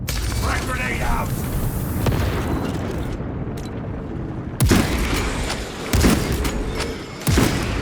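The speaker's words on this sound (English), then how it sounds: "Frag grenade out!" A frag grenade blows up in a Warhammer 40K video game with heavy booming blasts, several deep bursts landing over a dense, noisy battle din.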